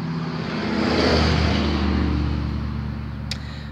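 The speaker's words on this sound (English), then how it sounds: "Boy, this traffic is insane today." Busy road traffic with cars passing, heard as a steady, loud wash of engine and tyre rumble that swells slightly and then eases, with no talking.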